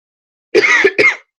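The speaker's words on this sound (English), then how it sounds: "I'm so sorry for coughing" Two quick coughs close to the mic, the first longer and the second a short follow-up, with nothing else around them.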